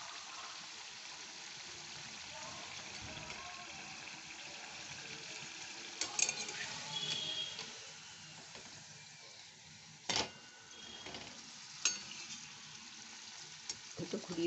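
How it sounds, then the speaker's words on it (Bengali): Faint, soft sizzle of healthy homemade snacks frying in a pan as they turn golden, with occasional clinks and scrapes from turning the pieces over. "একটু ঘুরিয়ে ফিরিয়ে গোল্ডেন করে ভেজে নিচ্ছি।"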